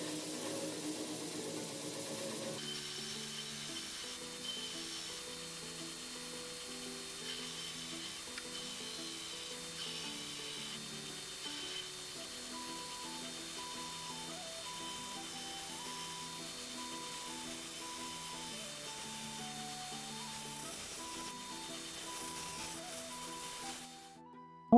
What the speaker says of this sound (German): Jetzt schleife ich das Messer schön flach und gleichmäßig.